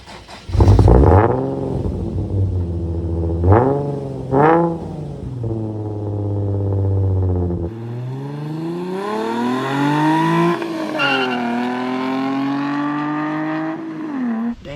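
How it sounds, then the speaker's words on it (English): A loud Infiniti car engine with a muffler delete revs hard several times with a raw, unmuffled exhaust roar, then pulls away and accelerates through the gears. "I have an infiniti Gemini with a custom muffler delete on it. Here's some sound clips."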